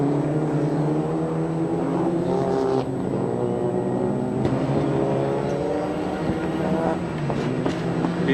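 Supercars race at the Foxhill circuit in Diyatalawa, Sri Lanka, in an up-to-3500cc class, making a steady, loud engine drone that swells slightly without letting up for about eight seconds.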